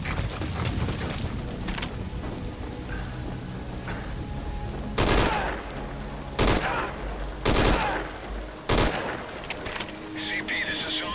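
Gunfire rings out in the video game Metal Gear Solid V: Ground Zeroes, scattered distant shots early on, then several sharp, loud bursts spaced a second or so apart.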